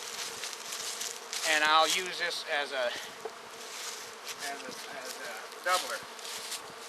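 Bees swarm and buzz around an opened hive in a spring apiary, a steady insect drone close by while someone talks over it.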